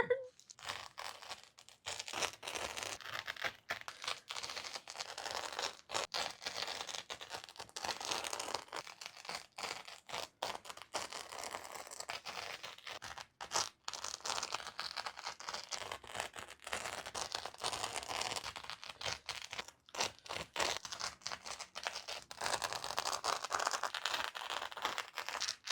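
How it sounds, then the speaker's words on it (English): Artificial grass is cut into a corset pattern, giving continuous crinkling, scratchy rustling and snipping close by for the full stretch, with no talk. "Let's cut out the rest of the pattern."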